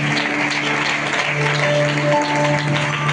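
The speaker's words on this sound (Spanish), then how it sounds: "Da un aplauso al Señor, por favor" A church congregation claps together in a dense, sustained burst of applause that fills the room, with steady volume and no voices standing out.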